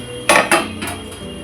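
A metal lid lifted off a cooking pot on the stove: two quick bright clanks close by, then lighter metallic rattles fading out.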